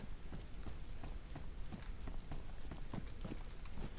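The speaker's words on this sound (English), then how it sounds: "At least the rain is calming down." Rain falls steadily in the video game DayZ on the Chernarus map, a continuous dense patter of drops on surfaces, soft and even throughout, no talking.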